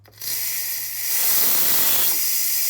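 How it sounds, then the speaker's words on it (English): Steam blasts from the pressure-release valve of a quick cooker making Thai coconut chicken soup. After a click it becomes a loud, steady hiss that grows stronger partway through. "we're gonna push this button and the steam is gonna shoot out from here"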